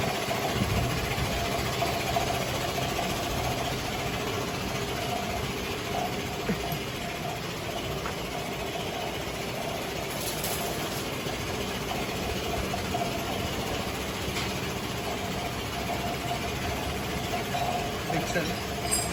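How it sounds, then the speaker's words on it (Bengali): A new 1115 engine in a truck with air brakes and a 40 gearbox idles with a steady, dense mechanical rumble and faint ratcheting ticks, continuous and close throughout. "আমার নিউ ইঞ্জিন এটা, আমার 1115 ইঞ্জিন,"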